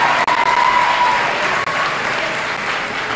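Sustained, dense applause from a large crowd, steady and loud throughout with no talking.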